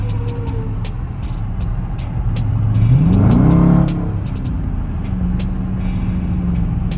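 A Dodge Charger Daytona drives with a loud, close engine rumble, revving up sharply for about a second midway, then settling back to a steady idle-like drone.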